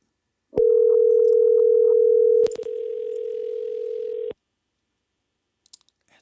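A telephone line tone plays during a call, a loud steady tone lasting about two seconds, then a fainter buzzy tone for nearly two seconds before cutting off, followed by a few faint clicks.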